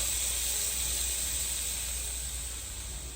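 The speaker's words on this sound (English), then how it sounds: "Like right now it's releasing all the steam coming out." Steam hissing from a eufy Mach V1 Ultra cordless steam mop vacuum, a continuous bright, even hiss held steady and close for a few seconds with no other sounds.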